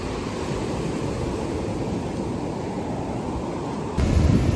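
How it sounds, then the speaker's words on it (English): Rough surf pounds a Jamaican beach in a steady, loud roar of breaking waves, with a gust of wind buffeting the microphone at the end. "Look at the waves."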